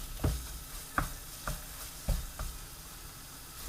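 Tomato paste and onions sizzle in a pan, a soft, steady hiss. A few distinct clicks and scrapes of stirring land about every half second.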